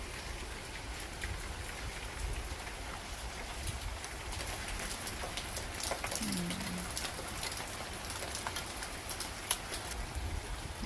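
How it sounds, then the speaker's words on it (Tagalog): Heavy rain falling during a downpour in Korea makes a dense, even hiss that fills the whole stretch, with a faint cooing bird briefly audible partway through. "lakas ng ulan."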